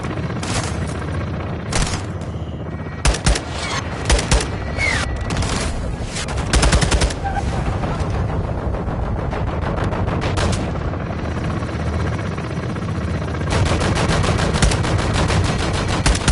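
Helicopter-called gunfire in Call of Duty Modern Warfare 2 crackles in dense machine-gun bursts and rapid volleys, loud and close, with heavier booming hits and near-continuous firing across the stretch.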